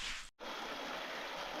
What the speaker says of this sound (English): And we have stumbled upon a little creek